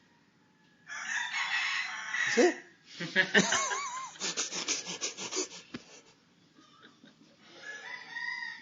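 A rooster crows loudly and close, one long drawn-out call followed by clucks and scratchy vocal sounds, and a person briefly speaks near the end.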